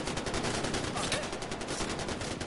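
Enemies in the video game Far Cry 4 fire continuously, a dense unbroken rattle of rapid gunshots that stays loud throughout the short stretch.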